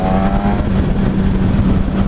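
A 2016 Suzuki GSX-S1000 motorcycle engine drones steadily while riding, a loud, continuous close-up hum with a strong low tone and rushing wind noise, no voices.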